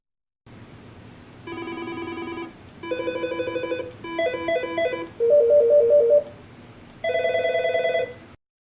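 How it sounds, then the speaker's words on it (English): Aastra IP desk phone ringtones from an Aastra 6753i/6755i/6757i series handset, played one after another: five short electronic melodic patterns separated by brief gaps, clear and close with no talking. "I'll use the up and down arrow keys to cycle through the different ringtones that are available."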